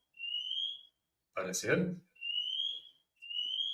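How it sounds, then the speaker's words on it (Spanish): Fire alarm sounding in repeated high, steady electronic tones with brief gaps between them, while someone speaks over one of the gaps. "Ya que hay una alarma de incendio."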